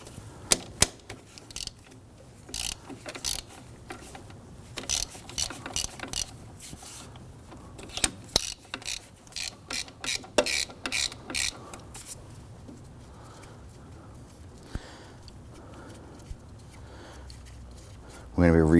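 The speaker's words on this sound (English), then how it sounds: "We'll now want to go ahead and loosen and remove this nut right here. It's a 13mm. We're going to use our ratchet." Ratchet clicking away as a 13mm nut is loosened on a 2009-2017 Volvo XC60, bursts of quick mechanical ticks coming in uneven runs, close and fairly crisp, with a brief louder clatter at the end.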